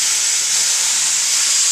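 Loud, steady steam hisses from the lid seam of a pressure cooker cooling under cold running tap water while making kitchari, a continuous bright rush with no break and no voices.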